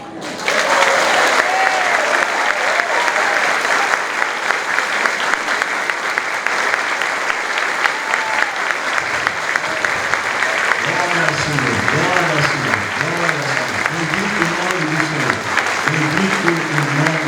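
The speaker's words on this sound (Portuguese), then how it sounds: "você pode dar uma salva de palmas para o Senhor" A church congregation applauds steadily at a temple inauguration service in Serra Branca, sustained dense clapping throughout, with a voice speaking or singing over it in the later part.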